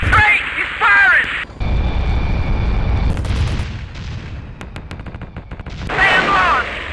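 Enemy guns firing in the jet combat game Strike Fighters 2, a loud rumbling barrage with rapid cracking bursts, bracketed by radio-style voices at the start and end.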